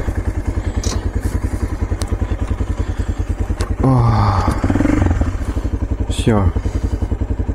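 A Stels 400GS carbureted motorcycle chugs steadily with a loud, close, even engine beat that briefly rises in a rev. Someone speaks a word over it.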